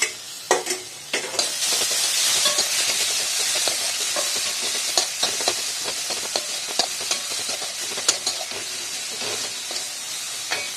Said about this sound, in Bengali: একটা গোটা টমেটো কুচিয়ে রেখেছিলাম, সেটা দিয়ে দিলাম